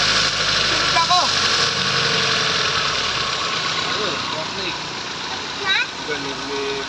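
A Mazda 323 engine runs at a steady idle after starting, a close mid-pitched hum under excited voices talking and exclaiming.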